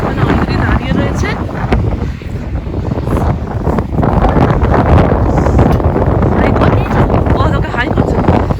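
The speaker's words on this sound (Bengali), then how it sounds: "হ্যাঁ প্রচন্ড জোরে হাওয়া দিচ্ছে" Strong wind buffets the microphone outdoors near a bus stop on a cold, snowy day, a loud continuous roar with gusts that swell and ease throughout.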